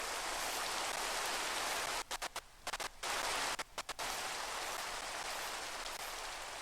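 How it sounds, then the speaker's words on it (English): Steady hiss of rain in the Minecraft video game, dense and even, with a few brief gaps where the sound cuts out, no voices. "Okay, it's raining."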